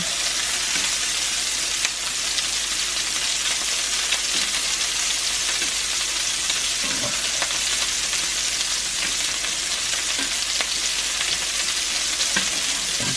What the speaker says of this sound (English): Turn your meatballs over so you get nice even browning.